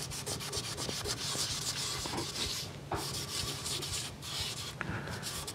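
Glue and sawdust are rubbed by hand into the cracks of a natural-edge cherry bowl, producing close, continuous scratchy rubbing strokes in a quick repeating rhythm, with no voices.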